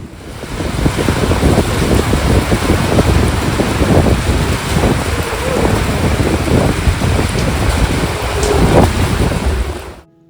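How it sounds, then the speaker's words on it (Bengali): Heavy rain pours down steadily in a dense, roaring wash, with gusty storm noise swelling throughout; no voices. "শুধু ঝড়, তার সাথে এইরকম মুষলধারে বৃষ্টি।"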